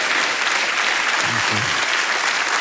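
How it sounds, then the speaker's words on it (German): A studio audience on an Austrian cabaret talk show gives a dense, sustained round of applause to welcome a guest. It is loud and even throughout, with a faint voice briefly underneath. "Bitte begrüßen Sie mit einem warmen Applaus"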